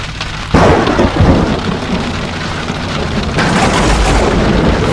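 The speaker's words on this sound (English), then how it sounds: "the storm just above us, is looking like it's getting bigger" A loud crack of thunder from a storm overhead during a tornado chase bursts out and rumbles on amid heavy, steady rain, with a second swell of storm noise toward the end.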